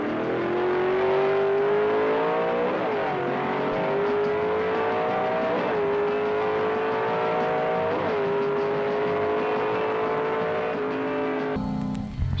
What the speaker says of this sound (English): Watch Len go through those gears.